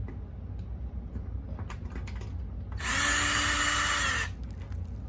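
A few light clicks and taps, then an electric drill whirs for about a second and a half, unscrewing bolts from a garage ceiling light, close and loud, before stopping.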